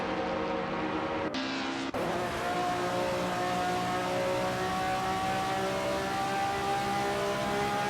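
1950s Formula One race cars in an AI racing video game, a continuous dense engine drone with sustained high-pitched whining tones as several cars race together, steady and loud throughout.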